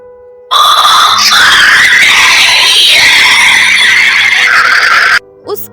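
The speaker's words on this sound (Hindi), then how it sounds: "मुझे उस औरत के दूर से चीखने की आवाज़ आई।" A woman's long, piercing high-pitched scream rings out for several seconds from a distance, loud and strained, with a harsh noisy edge and no talking.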